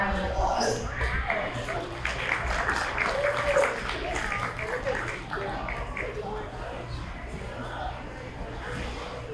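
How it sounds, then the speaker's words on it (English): Audience at a county fair junior market goat show applauds the 4-H kids, a steady, fairly loud spread of clapping with crowd murmur and talk mixed in throughout. "The kids deserve a round of applause."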